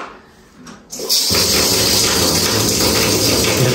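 After a second of quiet, a tap opens and water gushes loudly and steadily into a tub, a broad rushing hiss that stays close and constant to the end.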